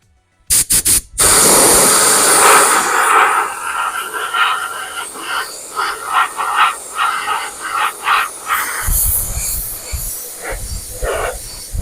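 Spray can hissing as a coat of yellow paint goes onto an RC car body, starting with short bursts, then a long steady loud hiss, followed by shorter pulsed sprays, close to the listener.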